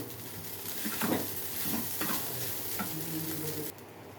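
A spoon stirring okra and curry-leaf rice in a pan, with soft scraping strokes over a faint sizzle, moderately close and fairly quiet, ending abruptly.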